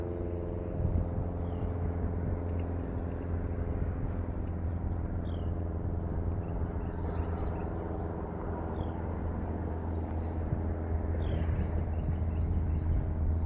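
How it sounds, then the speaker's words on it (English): Steady low rumble of passing road traffic beside a park, continuous and moderately loud throughout, with faint higher background sounds on top. "sorry about the road sounds you're hearing"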